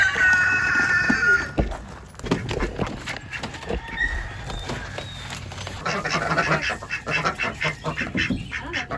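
A mother duck quacks in loud, repeated bursts up close, followed by scattered softer calls and rustling, with no talk.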